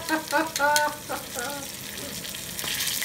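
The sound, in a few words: soft shell crab frying in hot oil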